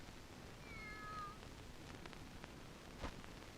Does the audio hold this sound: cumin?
no